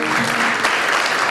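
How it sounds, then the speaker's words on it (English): Loud, close round of applause at an Ireland club gathering as a couple comes forward, a dense steady clatter of many hands with faint voices mixed in. "Can we give them a round of applause?"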